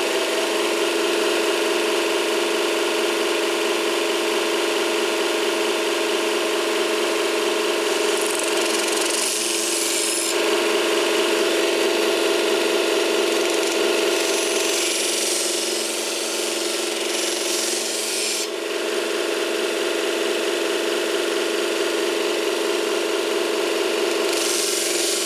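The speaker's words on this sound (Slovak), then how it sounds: "Potom tu máme pásovú brúsku." Kitchen knife sharpened on a belt grinder, a steady loud abrasive whine with gritty rasping that runs continuously for the whole stretch, shifting slightly in pitch and brightness as the blade is passed across the belt, with no voices.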